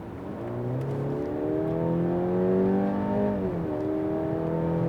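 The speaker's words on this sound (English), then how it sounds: "Let's go to sports mode and accelerate from 50 kilometers to 100." A Mercedes-Benz C300 in sport mode accelerating hard from 50 to 100 km/h, its engine note climbing steadily through a gear change, heard from inside the cabin with no talking.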